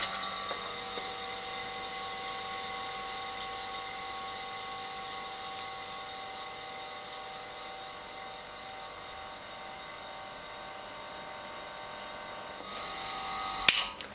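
Quiet Bambi-type workshop air compressor running steadily, a soft, even mechanical hum with a faint high whir throughout, briefly louder near the end, no voices.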